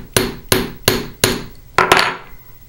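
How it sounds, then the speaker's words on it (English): Five sharp metal hammer strikes flatten a raised rivet on a metal disc bracelet, loud and close, evenly spaced for four blows, then two quick final taps. "So I like to hammer those a little bit smoother to the surface so that they don't snag on anything."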